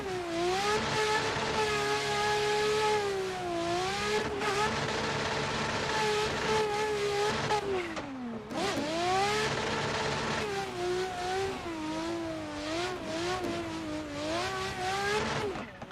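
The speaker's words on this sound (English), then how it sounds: "Oh my god, this car is so loud." A race car in a sim racing game roars with a loud, sustained engine note, climbing and dropping in pitch through repeated shifts and throttle changes, with one brief dip midway before it revs hard again.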